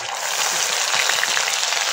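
Chopped onions and onion paste frying in a pan, a loud, dense, steady sizzle that fills the short moment without pause.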